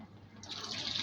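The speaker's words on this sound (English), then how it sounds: "I'm busy adding my water now" Water is poured into a Defy front loader washing machine: a soft pouring hiss swells and grows steadier partway through, close by with no voices.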